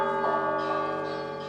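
Church bells ring steadily from the bell tower of the Monastery of New-Neamts, a rich sustained metallic tone with layered overtones, loud and continuous, with no voices.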